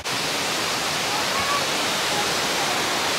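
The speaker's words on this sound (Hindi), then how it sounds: "यहाँ से वाटरफॉल ये सामने आप देख ही रहे हैं" The waterfall at Cat Cat Village in Sapa, Vietnam, fills the air with a dense, steady roar of rushing water, loud and close. It runs unbroken with no voices.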